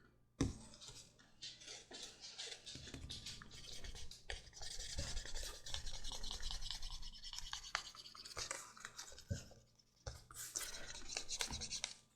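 Leather holster edges being finished by hand, giving a run of close, dry rasping and rubbing strokes in quick irregular bursts, fairly loud and continuous with brief pauses, no talking.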